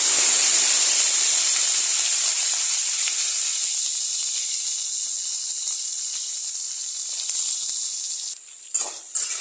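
Peanuts with five-spice seeds dropped into hot oil, a loud, steady bright sizzle and hiss that gradually eases off, with a few brief clatters near the end.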